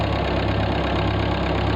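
A 1948 Ford 8N tractor engine idles steadily close by, a continuous low rumble with an even, slightly knocking beat and no talk over it.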